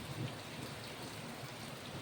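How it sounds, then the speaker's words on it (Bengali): Heavy downpour during a Kalboishakhi storm makes a steady, faint, even hiss of rain on surfaces throughout, with no voices. "প্রচুর মুষলধারে বৃষ্টি হচ্ছে, কালবৈশাখী ঝড়।"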